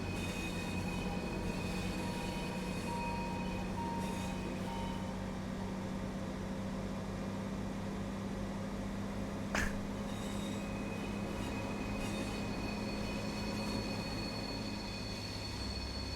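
A Pacer diesel train in Train Sim World 4 on the Bernina line, rumbling steadily throughout with a constant engine drone, wheel and rail noise, and a brief sharp squeal partway through.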